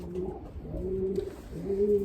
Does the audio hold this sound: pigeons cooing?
yes